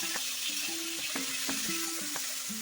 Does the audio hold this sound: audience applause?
no